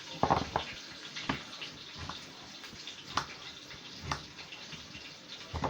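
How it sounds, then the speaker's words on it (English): Three potatoes get washed in a kitchen sink, with running water and irregular splashes and knocks close by and no one talking. "I've got 3 potatoes over there in the sink. I'm going to clean them"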